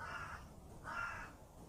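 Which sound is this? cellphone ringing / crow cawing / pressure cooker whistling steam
crow cawing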